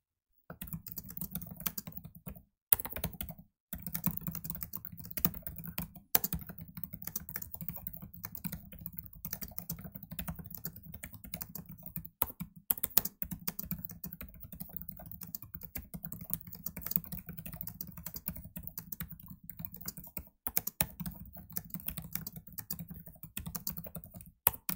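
Continuous fast typing on a computer keyboard, a dense stream of close, crisp key clicks with a few short pauses, heard alone with no talking.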